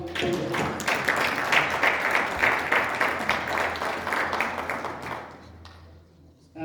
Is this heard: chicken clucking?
no